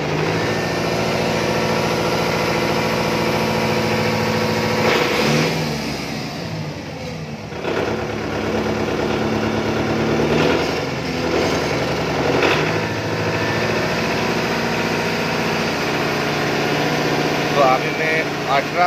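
A Kubota MU5501 tractor engine idles with a steady, loud diesel rumble and a few changes in pitch as the revs shift. Someone speaks over the running engine.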